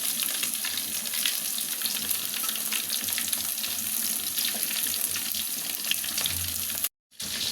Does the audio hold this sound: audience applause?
no